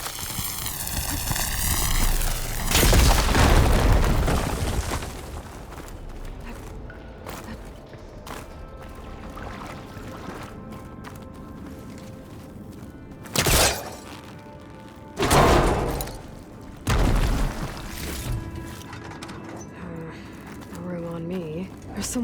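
A fire drain is blown up in Horizon Forbidden West: a loud, broad blast early on, followed by quieter rumbling and several sharp thuds and crashes of debris spaced apart.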